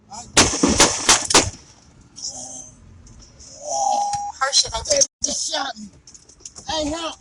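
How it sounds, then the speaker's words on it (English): Several sharp, loud gunshots crack in rapid succession near the start, followed by a few more scattered bangs amid voices and commotion. "Moments later, gunfire."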